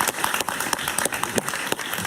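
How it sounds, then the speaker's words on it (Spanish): A talk-show studio audience applauds as a guest, Víctor Andrés García Belaúnde, is welcomed, a dense, lively patter of many clapping hands, steady and close throughout. "Un aplauso para él, por favor."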